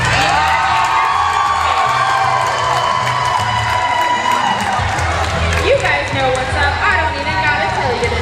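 A roller derby crowd at a rec league bout cheers, claps and whoops loudly and continuously, a dense wash of voices and applause with a few sharper shouts rising near the end.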